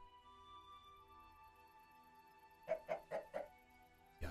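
A Minecraft chicken gives four quick, soft clucks in a row over quiet background music in the game.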